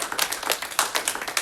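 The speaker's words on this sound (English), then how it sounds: "would you please applaud yourself for even being here?" Audience members applaud together at a gathering, a brisk, steady patter of many hands clapping at close range without talk.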